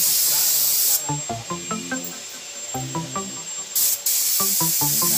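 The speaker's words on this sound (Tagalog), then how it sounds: "Ano yung ini-spray mo?" A painter's spray gun releases loud hissing bursts of spray that start and stop abruptly, sounding close and alternating with stretches of chatter and background voices.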